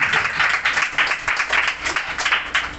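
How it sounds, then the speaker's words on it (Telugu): A crowd at a meeting claps together in a steady, rhythmic burst of applause that fills the whole moment, fairly close and even in loudness. "చప్పట్లు కొడతాం."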